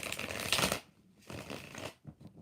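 Tarot cards shuffled by hand, two bursts of crisp riffling and flapping, close and fairly loud, with a short pause between them.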